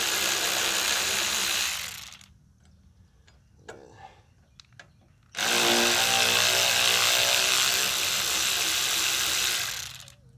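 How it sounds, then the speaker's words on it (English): A ratchet wrench spins off bolts on a Toro Timemaster 21199 mower in two long, loud, close bursts of dense clicking, separated by a quieter stretch of small metallic taps and handling. "Get these bolts off here."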